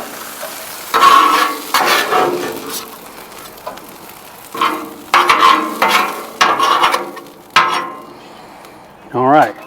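Meat frying in a pan on a Blackstone griddle, bursts of loud sizzling and stirring scrapes that come and go in uneven clusters, with a brief voice near the end.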